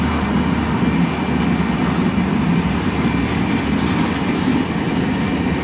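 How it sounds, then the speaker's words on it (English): A manifest freight train rolls past a yard near Roseville on restricted speed, giving a steady, loud rumble of railcars with a faint clickety-clack throughout, close by and with no voices. "Yeah, we all thought it was a grain train, but it's a manifest."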